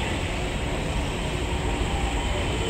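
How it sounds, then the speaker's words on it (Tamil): Airport metro train at the airport arrival station, a continuous loud rumble and hiss of the train running on its rails, steady throughout with no voices. "இதுதான் பார்த்திங்கன்னா ஏர்போர்ட் மெட்ரோங்க"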